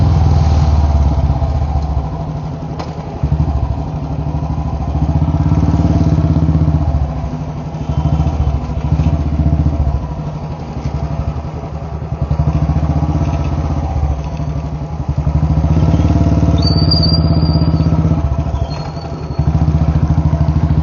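A Royal Enfield Bullet Standard 350 motorcycle engine running steadily nearby, a loud low thumping idle with a rough mechanical clatter that holds for the full stretch, with slight swells in level.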